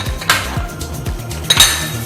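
Chopped tomato going into a vegetable kofta mixture in a bowl, with a spoon clinking and tapping against the bowl in a quick, uneven series of close knocks.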